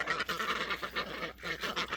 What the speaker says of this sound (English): I hear ya, big goose.